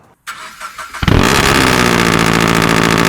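A Honda S2000 cold-starts with a fitted header, over pipe, front pipe and titanium exhaust: a brief crank after a silent pause, then it catches and settles into a loud, steady, raspy high idle, close up with no talking.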